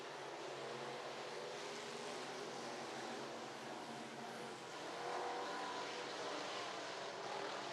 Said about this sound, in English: Taylor's going to make contact with Pearson on the front end of the race car